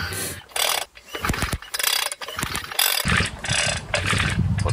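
A two-stroke engine with no compression is cranked over repeatedly, giving a close, loose mechanical whirring and clattering with no firing, in uneven pulls that become a steadier whir toward the end; no talking.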